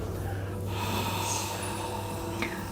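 A man exhales audibly, a breathy snort-like blow, during a witch's knot spell in a coven ritual; the breath is close and clear over a faint background hum.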